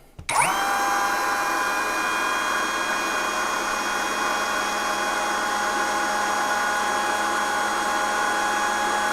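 A DRT50S cordless handheld router switches on and runs at a steady high speed, a loud continuous motor whine with a strong tonal pitch that holds unchanged throughout, with no voice.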